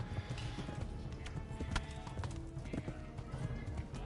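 Horse galloping and neighing in the medieval video game Kingdom Come Deliverance, with rapid, even hoofbeats going on throughout and a whinny over them, while a person talks faintly in the background.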